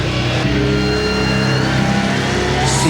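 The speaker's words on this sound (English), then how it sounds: "Genuine draft Rusty Wallace stock car." Rusty Wallace's Genuine Draft NASCAR stock car roars by with a loud, close engine note, a steady harmonic howl that holds strong with a slight rise at the end.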